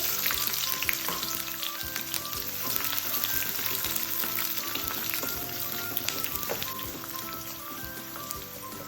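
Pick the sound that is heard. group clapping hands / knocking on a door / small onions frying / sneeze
small onions frying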